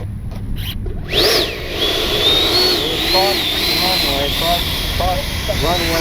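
An FMS 70mm EDF F-18 RC jet spools up, its high whine rising sharply and then holding as a strong, steady scream over broadband rushing air, while someone talks over it.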